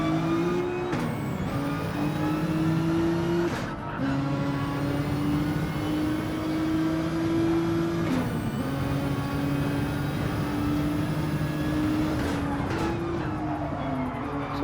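Race cars in Gran Turismo 7 during a DTM online race, engines droning steadily and loud with repeated upshifts and rising pitch as several cars run close together down a straight.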